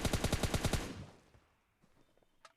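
A rapid burst of about eight close, loud automatic gunshots from the shooter game PUBG, followed by fading echoes and a few faint clicks.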